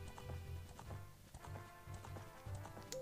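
Epona's hoofbeats in Zelda: Ocarina of Time, a steady galloping clip-clop of hooves repeating in quick rhythm, close and fairly loud, with no talk over it.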